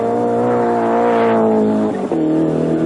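A 1986 touring race car driven by George Fury climbs the mountain, its engine loud and close in a sustained high roar with a brief gear change and tire squeal, heard from onboard.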